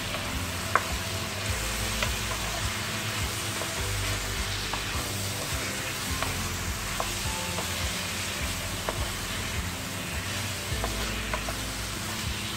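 Chicken karahi with chopped tomatoes and green chillies frying in a kadai, a steady close sizzle with scattered stirring clicks and scrapes, no voices.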